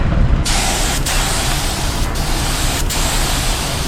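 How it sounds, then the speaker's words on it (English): A spray gun lays clearcoat on a car in a loud, steady hiss of atomized paint that runs unbroken for several seconds, briefly cut by short gaps as the trigger is released and pulled again. "So we'll go ahead and spray the rest of this"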